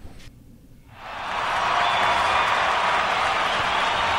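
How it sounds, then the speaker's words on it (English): Crowd applause and cheering swells up after a near-silent start, then holds as a steady, loud wash of clapping through the rest. "And the crowd goes wild."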